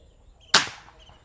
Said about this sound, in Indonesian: Tembakan kelima.